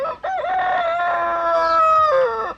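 A voice imitates a chicken, giving one long drawn-out crowing call that rises and holds before trailing off, loud and close with no other sounds.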